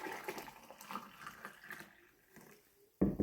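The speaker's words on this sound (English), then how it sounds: "Hot water." Hot water poured from a container, a soft, smooth liquid stream running fairly quietly for a few seconds before a sudden louder splash near the end.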